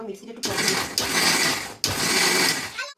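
An electric mixer grinder whirs loudly in short bursts, three pulses separated by brief stops, close to the microphone.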